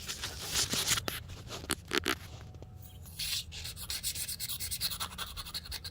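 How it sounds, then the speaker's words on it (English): Razor blade scraping white mineral efflorescence off the surface of natural stone: close, continuous rasping strokes in uneven repeated passes, gritty and fairly loud with no talk. "this all scrapes off and it can be cleaned from the top because it's just"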